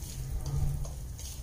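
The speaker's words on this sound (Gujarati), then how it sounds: "ગરમ તેલને ફટાફટ મિક્સ કરી લેશું" Hot oil is quickly stirred into spices for a fermented green chili pickle, giving a soft, continuous sizzle with light scraping, close and fairly quiet, with no speech.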